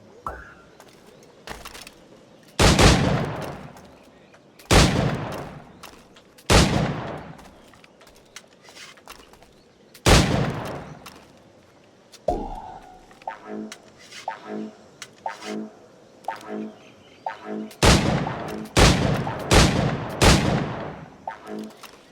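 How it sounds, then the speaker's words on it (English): Gunfire from a target-shooting challenge in the Assassin's Creed 4 Black Flag video game, heard as loud, sharp single shots spaced a few seconds apart, then faster clustered shots near the end, with softer game effects in between. "Try to strike every target before this hourglass empties."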